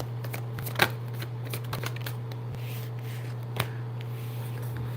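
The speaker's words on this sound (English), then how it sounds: "One more, let me shuffle this again." Tarot cards are shuffled steadily with soft riffling and a couple of sharp snaps, over a constant low electrical hum.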